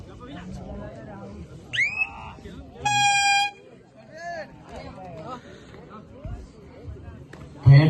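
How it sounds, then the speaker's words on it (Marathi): A warning air horn at a village kabaddi tournament gives one loud, sustained blast partway through, amid crowd noise and someone speaking over a loudspeaker before and after. "थेटचा इशारा भोंगा वाजलेला आहे."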